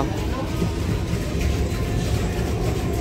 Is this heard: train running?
yes